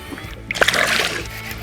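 A released smallmouth bass splashes back into a lake from a fishing boat, a short, close water splash followed by brief sloshing.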